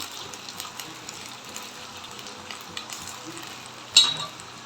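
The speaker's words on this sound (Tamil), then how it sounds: "இதில் வந்து ஆயில் விட்டு கடுகு வெந்தயம் போட்டு கொஞ்சம் கருவேப்பில் போட்டு தாளிச்சிக்கலாம்" Mustard seeds, fenugreek and curry leaves crackle and sizzle steadily in hot oil while being stirred, with one sharper spatter near the end.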